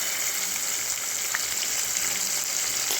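Onions frying in hot oil in a pan for an eggplant and tomato curry, a dense, even sizzle heard close and continuously, with no talk.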